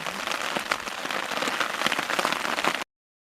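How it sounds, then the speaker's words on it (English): A passing rain squall beats down on a canoe portage at Cocos Lake, a loud, close, steady patter of drops striking surfaces, with no talk, before cutting off abruptly. "We have some passing rain squalls here on the Cocos Lake Portage"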